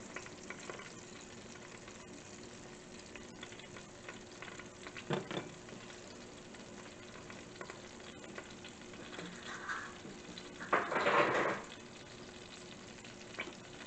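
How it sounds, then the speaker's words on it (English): Butter melting in a pan, a faint, steady low sizzle throughout with occasional soft scrapes and a brief louder crackle near the end. "So we're going to let this butter melt."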